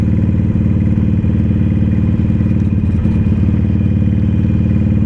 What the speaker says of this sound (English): the clunkiness of the shifting just matches the rumble and just the overall feeling of riding a Harley